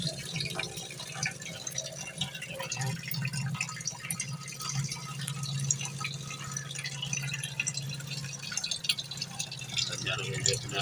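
Reject water from an RO water purifier trickles and drips steadily at low level, a continuous watery patter with faint rattling running throughout.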